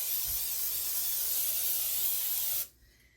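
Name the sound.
cooking spray being sprayed in pan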